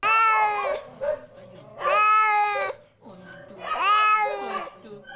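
Several shelter cats meowing up close, three long drawn-out wailing meows in a row with brief quiet gaps between them.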